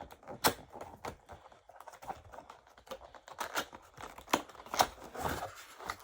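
Cardboard box holding an Onn wireless mouse and keyboard being opened by hand, with a run of close, dry crackles, scrapes and sharp taps of cardboard and packaging flaps, irregular and fairly quiet throughout.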